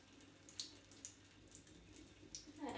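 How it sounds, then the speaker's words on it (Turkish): Warm water running from a tap into a sink, a faint, steady splashing flow with light drips, heard close but quiet. "Ilık suyu açtım."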